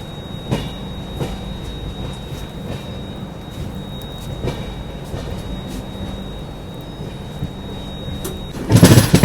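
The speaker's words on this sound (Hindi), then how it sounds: "बहुत ही शार्प कर्व लेना शुरू कर दिया है अपनी ट्रेन ने" The Pune Kanyakumari Express rolls through a sharp curve, with steady rumbling and rhythmic wheel clatter inside the coach, ending in a louder burst of rattling near the close.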